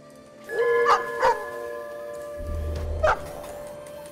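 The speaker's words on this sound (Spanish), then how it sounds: "tengo un perro inmortal" A dog unit in the real-time strategy game Stormgate gives a few sharp barks, two close together and then one more, over game ambience and a low electronic tone.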